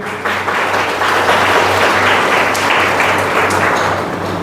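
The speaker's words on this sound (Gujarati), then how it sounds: "આપણે સૌ તેમનું તાળીઓથી સ્વાગત કરીએ" Audience at a birthday celebration gathering breaks into warm applause, a dense, loud wash of clapping from many hands that holds steady for several seconds.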